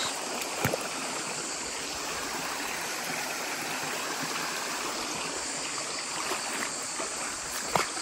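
A cold spring-fed stream runs through a valley with cress and small footbridges, giving a steady close rush of flowing water with no voices and only a few light knocks.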